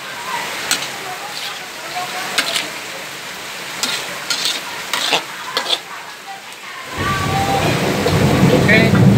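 Water spinach (kangkung) stir-fry in a pan, stirred with a utensil: scattered scrapes over a steady sizzle, then a louder, denser bubbling hiss near the end.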